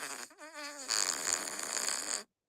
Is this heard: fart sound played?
yes